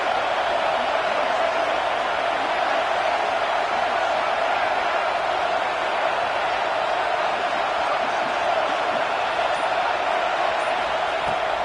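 A football stadium crowd roars steadily on third down, a dense continuous wall of noise with no breaks that stays loud throughout.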